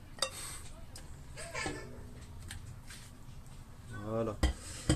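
Lamb ribs go into a large cooking pot amid clattering pots and utensils, with scattered knocks and a couple of sharp clanks, while people talk and laugh nearby.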